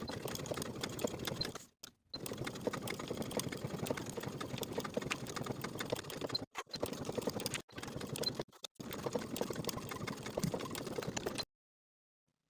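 A sewing machine stitches around the perimeter of a jacket pocket piece in steady whirring runs, stopping briefly several times between bursts and then falling silent at the end.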